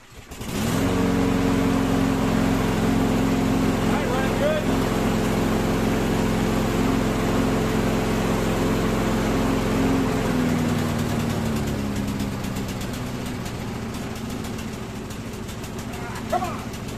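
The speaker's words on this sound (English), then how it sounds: "So I'm going to start it up first." A lawn mower engine starts from a pull and settles into a loud, steady idle that drops slightly in pitch partway through, running alone for most of the stretch.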